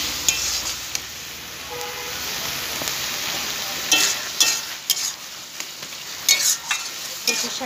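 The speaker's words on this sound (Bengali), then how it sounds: "কচু শাকটা রান্না হচ্ছে।" Taro leaves (kochu shak) cook down in a pan while a spatula stirs them, giving a steady frying hiss punctuated by repeated scraping and knocking strokes, closer and busier toward the end.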